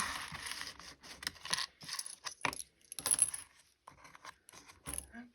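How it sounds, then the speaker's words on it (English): Dice tumbling and clattering on a table during a counting lesson with a ten frame, a burst of several quick rattling clicks and bounces, close and fairly quiet, with no talking. "let's move it over here and roll the dice again"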